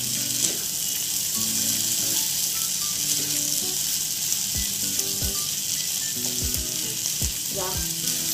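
Spiced rice and vegetables sizzle steadily in a hot pan while being mixed, with a constant close frying hiss and several sharp scraping knocks from the spoon toward the end.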